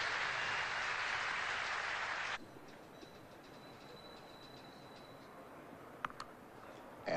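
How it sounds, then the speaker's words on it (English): Crowd applause at a 1978 Australia v England Test cricket match in Perth, following a bowler's maiden over: a broad, steady wash of clapping for about two seconds that then cuts away to quiet ground ambience with a few faint ticks. "Here's the applause for it."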